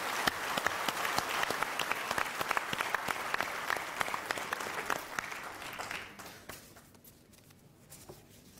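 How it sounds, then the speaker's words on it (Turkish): An audience claps steadily for several seconds, then the applause thins out and fades to scattered claps. "Özlem Çarçıoğlu hanımefendiye alkışlamanızı rica ediyorum"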